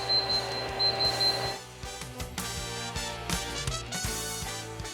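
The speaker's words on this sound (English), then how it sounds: "It will sound an alarm when the tank fill adjustment screen is displayed." A Robinair YF1234 refrigerant service machine sounds a steady electronic alarm tone near the start, then a busier run of clicks and tonal beeps follows, close and moderately loud with no talking.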